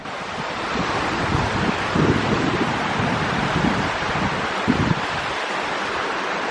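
A waterfall at Graveyard Fields near Asheville, North Carolina, running powerfully after rain, gives a steady, dense rushing roar with no voices.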